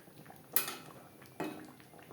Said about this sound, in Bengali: আলু ও ডিম গ্রেভির সাথে আলু ও ডিম বেশ ভালো করে মিক্সড করে দেব